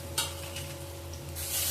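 Spice paste being sautéed and stirred in a pan, a soft low sizzle with a couple of brief scraping strokes, a steady hum beneath, fairly quiet throughout.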